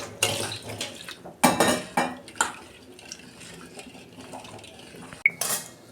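Mung dal lentils washed in water in a metal pot, with close clattering knocks, scraping stirs and sloshing in irregular bursts, no talking.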